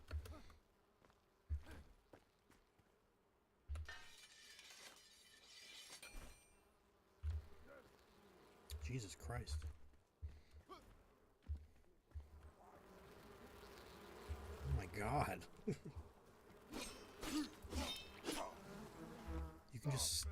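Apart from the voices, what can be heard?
bees buzzing in a video game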